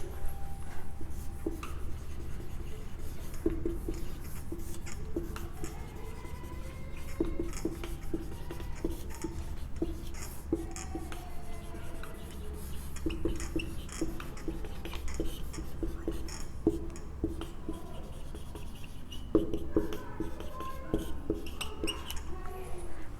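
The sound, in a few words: writing on a board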